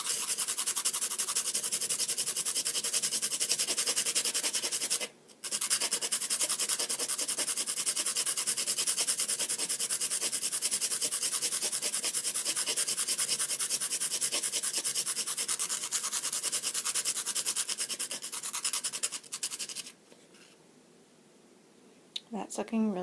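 A drawing pencil is sharpened and its middle section thinned. A steady, close rasping scrape runs almost the whole time, pausing briefly near five seconds and dropping to a faint hush at the end.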